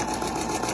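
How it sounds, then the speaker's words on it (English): A sewing machine stitches seams through quilt fabric with a brief, close, steady mechanical whirring hum. "We're going to start sewing."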